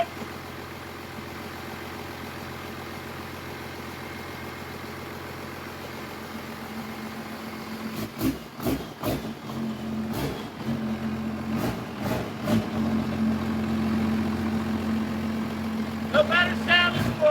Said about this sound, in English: No better sound in the world than a Cummins.